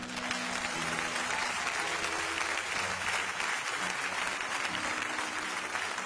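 A church congregation claps steadily and loudly throughout, a dense continuous wash of applause with no pauses.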